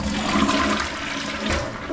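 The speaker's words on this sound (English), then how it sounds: "So just put the brush back into the holder here, and let's flush. Give a good flush." A toilet flushes right after its stained bowl has been scrubbed with a brush: a loud, close, continuous rush of swirling water fills the whole moment without any talking.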